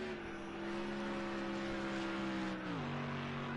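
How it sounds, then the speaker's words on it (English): A GT3 race car in Project Cars 2 at Hockenheim GP holds a steady, loud engine drone, then the pitch drops sharply as it passes, with no talk over it. "Car is coming round again."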